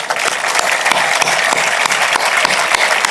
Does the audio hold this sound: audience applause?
yes